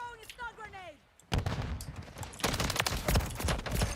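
Gunfire in Call of Duty Modern Warfare 3 bursts out as loud, rapid crackling shots and volleys following a short voice, dense and close with overlapping reports.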